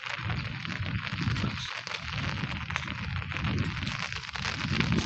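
Morning rain falls steadily in the Konkan countryside as a dense, continuous patter of drops on surfaces, even and close throughout with no voices.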